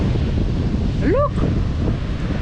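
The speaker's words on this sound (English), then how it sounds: "see the waves, guys, see the waves" Water waves wash in under gusting wind in an outdoor nature spot, a loud continuous roar with strong wind buffeting on the microphone and a brief high tonal sweep.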